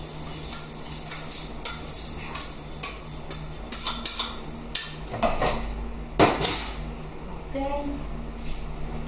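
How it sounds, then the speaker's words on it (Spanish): Three cups of rice poured into a pot for arroz con gandules with pork ribs, with clattering metal pot and utensil knocks, scraping and stirring, and loud clanks in the middle of the stretch. "Vamos a añadirle 3 tazas de arroz"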